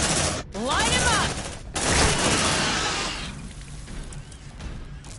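An automated sentry gun opens fire in Aliens: Dark Descent, a dense fusillade of rapid shots bursting out in two loud stretches before trailing off, mixed with game sounds and radio chatter.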